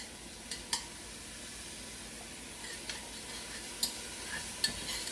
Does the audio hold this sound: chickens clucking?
no